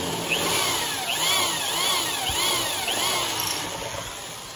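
A power drill whines steadily as it bores into an electric guitar's wooden body, its pitch wavering in slow repeating sweeps under a constant high hum.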